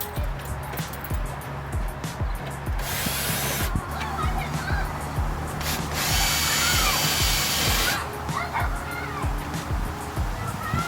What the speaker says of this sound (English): Have to drill these out because they have rivets.